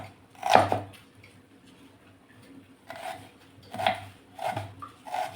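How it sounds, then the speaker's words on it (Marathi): An onion is chopped finely with a knife in a home kitchen: a few sharp knife strikes against a board, spaced irregularly with pauses, close and fairly quiet. "एक कांदा घेतला आहे, तो सुद्धा बारीक चिरून घ्यायचा।"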